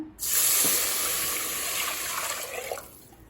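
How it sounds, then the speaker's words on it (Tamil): Water pours steadily into a pan of roasted broken wheat rava close up, a continuous splashing rush that tapers off toward the end. "அடுத்தது 4 கப் தண்ணி சேர்த்துக்கலாம்"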